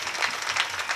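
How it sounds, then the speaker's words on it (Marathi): Audience clapping for the musicians at a Marathi kirtan gathering, a dense steady patter of many hands held at moderate level for the whole second with no voices over it. "त्यांच्यासाठी इथं जोरात टाळी वाजवा"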